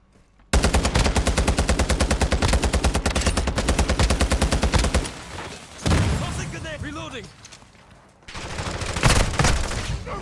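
Rapid automatic gunfire in a Call of Duty Modern Warfare II team deathmatch on the Museum map: a long, loud, evenly spaced burst of shots, a pause, then another close burst, with a player talking over the shooting.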